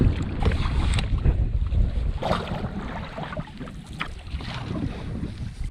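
Canoe paddled across a lake, with soft water splashes from the strokes under steady wind buffeting the microphone, close and continuous.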